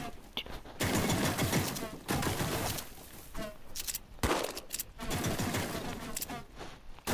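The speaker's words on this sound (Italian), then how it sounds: "Ma non so perché mi ha sparato a caso" Bursts of rapid gunfire from a shooter video game, an enemy firing at the player, come in several loud clusters across the clip with brief gaps between them.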